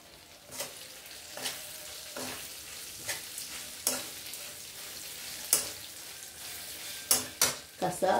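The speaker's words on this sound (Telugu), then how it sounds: "సన్నపు సెగ మీద వేగాలండి ఇవి." Ivory eggplant and chillies frying in a pan over low heat, a soft steady sizzle broken by roughly a dozen separate scraping stirs that grow a little louder toward the end.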